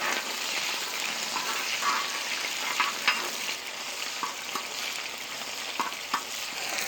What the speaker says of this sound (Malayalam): കുറച്ച് കറിവേപ്പില, കുറച്ച് കുച്ചുള്ളി ഇതിട്ടൊന്ന് ഇളക്കി കൊടുക്കണം.